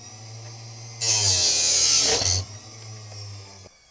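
A power tool cuts through a golf wedge shaft, a sharp high whining buzz bursting on for about a second and a half over a low motor hum, then dropping back to the quieter drone.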